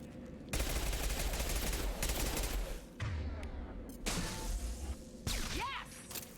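Bursts of sci-fi gunfire in the Mass Effect video game, several loud sustained volleys of rapid shots broken by short pauses, with whooshes and impacts mixed in, dense and close.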